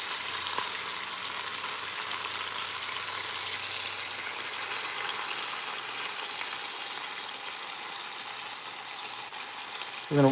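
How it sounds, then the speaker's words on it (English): Beef pieces for a braise sear steadily in a hot pan, giving a continuous even sizzle and crackle at moderate level for the whole stretch, with no talking. "we are almost just getting the last side seared"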